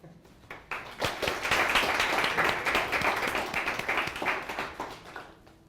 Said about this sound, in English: please join me in at least giving them a warm round of applause